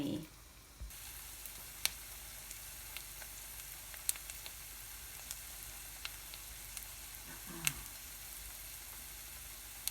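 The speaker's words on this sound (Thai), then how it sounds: "ไอเอาข้าวต้มหมูค่ะข้าวต้มยวนเนาะ เอาลงไปทอดค่ะทุกคน" Vietnamese pork rice cake deep-frying in hot oil, a steady fine sizzle with scattered sharp pops and crackles, close and continuous with a brief bubbling burst at the start.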